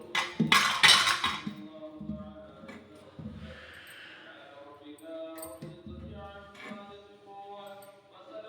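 Metal idli plates clink and clatter in a home kitchen as batter is poured into them. A burst of sharp metallic knocks comes at the start, followed by quieter scattered taps and faint handling noise.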